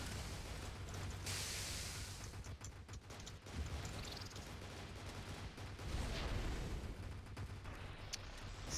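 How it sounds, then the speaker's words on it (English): Rockets slam into and bring down a building during a 2018 R2DA Halloween event fight against the Pumpkinator, a dense, continuous rumble of blasts and crackling debris that stays fairly faint and distant throughout. "apparently the rockets will destroy this building"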